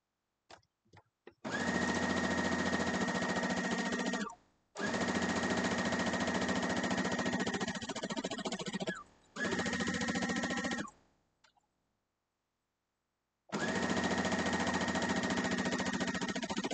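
A sewing machine stitches a quilt block in four long bursts of steady, loud mechanical whirring, with short pauses between runs and a longer gap before the last one.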